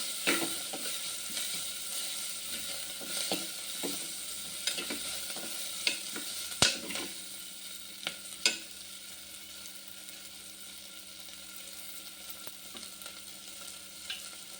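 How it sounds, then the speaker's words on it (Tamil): Small onions and garlic sautéing in a pan, a quiet steady sizzle with occasional stirring scrapes and clinks, no talk. "சின்ன வெங்காயம் கொஞ்சம் வதங்கணும் பூண்டு பல்லு ஒரு நாலு"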